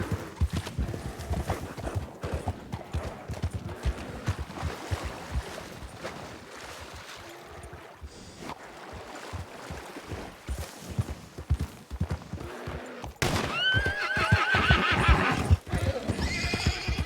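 Horses in Red Dead Redemption 2 clip-clop steadily along at a trot, then a loud whinny breaks out near the end over the continuing hoofbeats.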